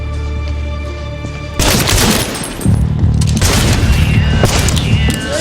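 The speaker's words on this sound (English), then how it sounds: "Marcus immediately opens fire with deadly accuracy, taking down the criminals one by one" Rapid bursts of gunfire crack loudly in a film scene as a man opens fire on criminals, dense overlapping shots with booming echoes and a low music bed underneath.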